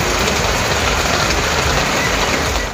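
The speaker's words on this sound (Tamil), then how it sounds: "பல பகுதிகளில் கனமழை பெய்தது" Heavy rain pours across parts of Tamil Nadu in a steady, loud, unbroken downpour that hisses evenly from start to finish, with no voices.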